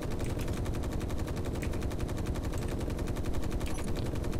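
Guns fire in the video game Space Engineers, a dense, unbroken rapid burst of automatic shots that stays loud and steady throughout, with no voices over it.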